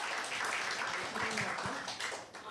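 Applause for the author at a book launch in Warsaw, a steady wash of many hands clapping at moderate level for a couple of seconds, with faint voices underneath.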